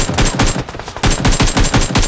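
Rapid automatic gunfire hitting an enemy in the mobile shooter BGMI, a loud, close burst of tightly spaced shots with a brief pause midway before the firing resumes in a steady rattling rhythm.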